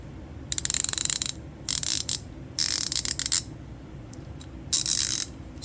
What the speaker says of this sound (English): That's me shaking it there. Very little back drag on these guys.